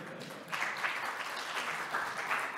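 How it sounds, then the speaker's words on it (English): Audience applause during a tech conference talk about building Linux for WebAssembly: a quiet pause first, then an even patter of clapping from a modest crowd that holds at a moderate level to the end. "I'd like some applause."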